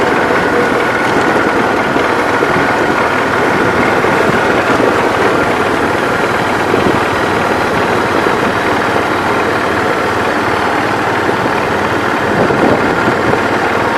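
A 1980 Wheel Horse C145 lawn tractor engine runs continuously nearby with a steady rumbling drone that holds the same level throughout.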